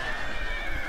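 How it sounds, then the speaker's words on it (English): A cavalry unit charging in the Shogun 2 video game, with horse whinnies and clattering hooves in a continuous loud battle din. "Oh my god, that horse just stampeded that guy"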